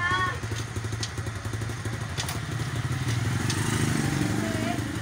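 A TVS King three-wheeler's motorcycle engine runs steadily up close with a rough, pulsing putter and some clatter, while people talk over it.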